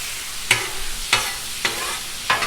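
Shrimp fajita vegetables sizzling on a Blackstone griddle, a steady hiss broken by four sharp spatula scrapes and clacks spaced about half a second apart, close and moderately loud with no talking.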